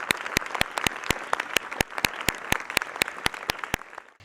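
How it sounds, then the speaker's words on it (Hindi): Steady, dense applause from a seated audience welcoming a panelist at a senior secondary school's panel discussion on higher education, many hands clapping at moderate volume for about four seconds with no talking. "तो इनका भी जोरदार तालियों से स्वागत करें"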